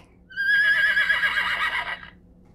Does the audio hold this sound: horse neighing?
yes